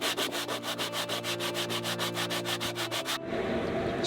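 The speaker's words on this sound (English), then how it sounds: "this is always a pretty good alternative if you want to be able to sand a round disc" Rapid rhythmic rubbing strokes of sanding on a round wooden disc, close and fairly loud, about six strokes per second for three seconds before giving way to a steadier scraping hiss.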